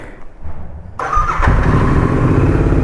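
A motorcycle engine cranks and fires up, settling into a steady loud idle close by.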